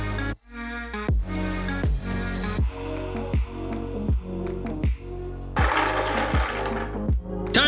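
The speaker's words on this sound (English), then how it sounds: "and then attach the casters with screws." Wooden light stand having casters fastened on with screws, heard as a series of repeated short bursts from a power driver, each dropping in pitch as the screw seats, with brief gaps between runs.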